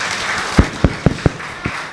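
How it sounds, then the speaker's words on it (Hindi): Audience applause at a mushaira poetry gathering in Amravati, a short burst of several distinct claps spaced irregularly over a soft crowd murmur. "एक बार ज़ोरदार तालियां आप लोगों के लिए हो जाए"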